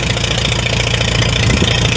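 A Farmall H gas tractor engine idles steadily after starting up from a winter of sitting, a loud, close, continuous mechanical rumble with a fine regular knock running through the whole stretch and no voices.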